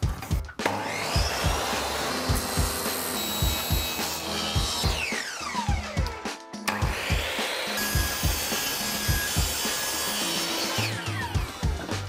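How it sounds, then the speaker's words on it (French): A saw cuts 6 mm MDF into large 50 cm square panels, a loud close rasping drone that rises and falls in repeated strokes, pausing briefly twice between cuts. "on va couper des grands panneaux de 50 cm de côté"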